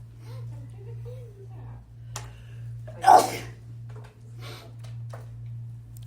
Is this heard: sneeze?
yes